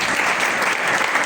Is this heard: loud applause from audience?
yes